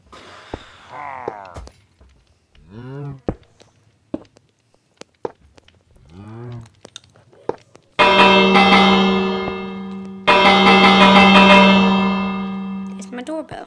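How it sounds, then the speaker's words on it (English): A doorbell chimes loud and close during a Minecraft gaming session, two sustained ringing bursts back to back with long resonant tails, following a stretch of quiet speech and scattered small clicks and taps. "It's my doorbell."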